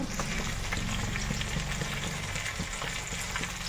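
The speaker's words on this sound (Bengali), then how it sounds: "সাথে সাথে ডালটাই ফোড়ন দিয়ে দিই" Dal tempering spices sizzle and crackle steadily in hot oil, a continuous frying hiss with small pops throughout.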